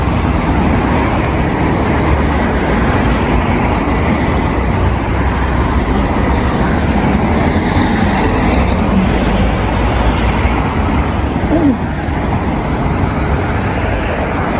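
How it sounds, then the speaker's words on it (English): Vehicles driving into a road junction on a cold day, a continuous loud rumble of engines and tyres rolling nearby with no clear breaks, steady traffic noise throughout. "I suppose vehicles now are coming in"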